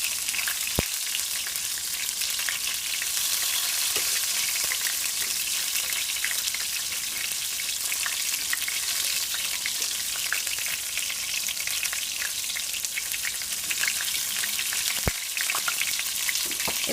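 Battered oyster mushrooms shallow frying in oil, a steady close sizzle with crackling pops and occasional sharper spits throughout.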